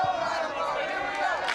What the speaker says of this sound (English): Good old-fashioned positive cheering for your team.